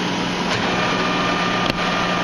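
A metal lathe with its spindle engaged runs in a machine shop, giving a steady, even mechanical hum with a faint tonal whine and one brief tick partway through, continuous and fairly loud with no talking.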